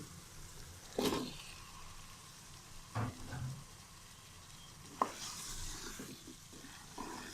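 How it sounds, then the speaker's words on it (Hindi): Potatoes go into frying masala in a pan for an aloo matar curry and get stirred, giving a few distinct scraping clatters and soft sizzling at low volume, with no speech. "तो अब हम इसके अंदर डाल देंगे अपना आलू।"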